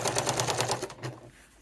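Sewing machine stitching through oilcloth for a mitered-corner placemat, a fast rattling burst of needle strikes close up that stops abruptly, leaving a brief softer tail.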